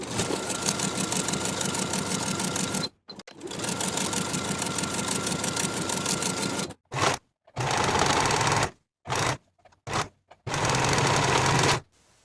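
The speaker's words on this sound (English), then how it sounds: "Sew this curved seam with a 1/2 inch seam allowance" Sewing machine stitching the curved crotch seam of high-waist barrel pants, a fast, close mechanical whirr in several bursts with short stops between runs.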